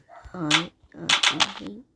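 A voice close by makes short, yippy dog-like barks and whines in quick succession, sounding like a person imitating a small dog.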